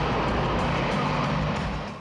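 A Hyundai car drives onto an ice hockey rink in an arena, with a steady low engine and rolling drone that holds for about two seconds before easing off slightly.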